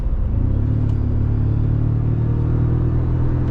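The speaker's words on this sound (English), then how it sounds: "you can really accelerate quickly if you need to" A 2024 Toyota Tacoma TRD Pro with a turbocharged 4-cylinder engine accelerates from speed, its deep, loud engine rumble rising steadily from inside the cab.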